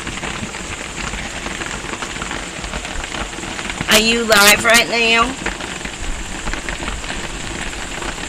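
Steady rain falls after a thunderstorm in the Carolinas, a constant close patter on a plastic shelter, while a person briefly speaks partway through.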